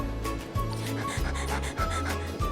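A dog pants in quick, rhythmic breaths, close and steady through the whole stretch, with no voices over it.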